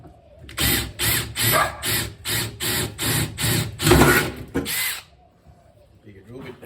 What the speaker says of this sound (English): Bigger drill bit there.